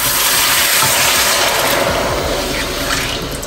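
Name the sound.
washing ingredients under running water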